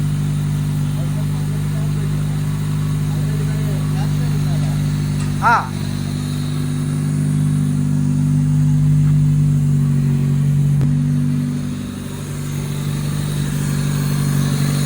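A Honda City Type 2 car engine runs steadily on its first start after five months, with no air filter fitted and the exhaust not yet installed, giving a continuous loud drone while someone briefly speaks over it.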